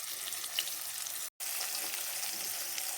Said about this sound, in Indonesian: Jadi ditumis dulu bumbunya.